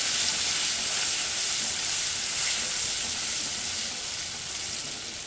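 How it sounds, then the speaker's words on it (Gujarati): Cloves, a cinnamon piece, bay leaf and ginger-chilli-garlic paste sautéing in a pan for Gujarati urad dal give a steady, close sizzle with a bright hiss that holds evenly throughout, fading slightly near the end, with no talking. "2-3 લવિંગ અને 1 તજનો ટુકડો, તમાલપત્ર, આદુ મરચાં લસણની પેસ્ટ બરાબર સાતળી લઈશું"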